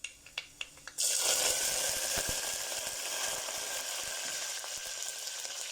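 Curry leaves hit hot oil already holding popped mustard seeds and cut dried red chillies during tempering for Kerala moru curry: a few sharp pops, then a sudden loud, hissing sizzle that continues steadily, close by, with no talk.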